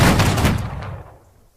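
Star Wars clone troopers fire a dense volley of blasters in an animated scene, a loud rapid burst of crackling shots that quickly fades away.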